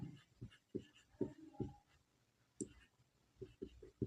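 Pen writing on paper in quiet surroundings, a series of soft, irregular scratching strokes and small taps separated by brief pauses, faint and close.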